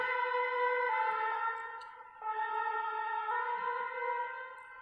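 A fire engine siren wails outside, a steady multi-tone emergency call that dips briefly then resumes, moderately loud and heard without any talk.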